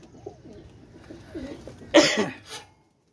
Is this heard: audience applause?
no